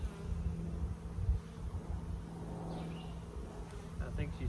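Bees hum in a low, steady drone around an open beehive on a farm while frames are pulled out, with a faint voice murmuring at times beneath the buzzing.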